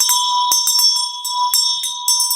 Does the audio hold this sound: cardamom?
no